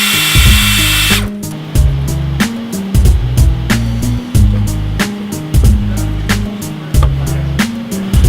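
Power tool, likely an impact gun, tightening a bump stop bracket bolt on a 2011–2017 Ford F-250/F-350 during a 2.5-inch ReadyLift leveling kit install; a steady whir opens, then a string of sharp rhythmic rattling hammer bursts, loud and close.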